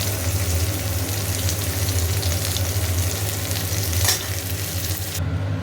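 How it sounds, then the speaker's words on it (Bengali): Pre-boiled cauliflower fries in a pan for a cauliflower dalna, a steady close sizzle with a brief clink partway through, alone without talk, fading at the very end. "ভাজা হয়ে গেছে।"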